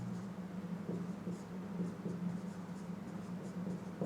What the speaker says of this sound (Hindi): एक क्वेश्चन लिखता हूँ मैं यहाँ पर